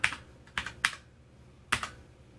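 Arrow keys tapped on a computer keyboard while moving an object in Tinkercad, four crisp clicks with a quick double tap, separate presses spaced unevenly against a quiet background.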